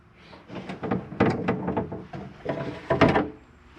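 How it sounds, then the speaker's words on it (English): An RV exterior panel door on an Entegra Aspire being opened, giving a series of close knocks, clunks and rattles from the latch and door, several sharp hits in under four seconds. "I'm going to start by opening up our panel door here."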